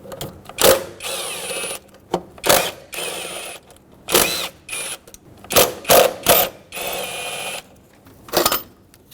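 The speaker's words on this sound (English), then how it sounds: "now with a 10mm socket, remove the 4 bolts holding this throttle body onto the intake" A ratchet with a 10mm socket works the throttle body bolts on a 2011-2016 Ford F-350 with a 6.2L V8, giving loud, close bursts of rapid clicking separated by brief pauses.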